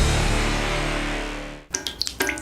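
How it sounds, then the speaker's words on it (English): Water drips from a leak through a cracked ceiling, as a few distinct, bright plinks spaced unevenly after a sustained tone fades out abruptly. "That's the sound of a crack in the ceiling found at a home inspection."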